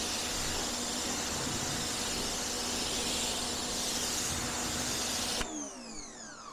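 Steady broadband hiss of a water spray rinsing shampoo off a car, constant and close for several seconds, then cutting off abruptly near the end, leaving a brief quieter tail.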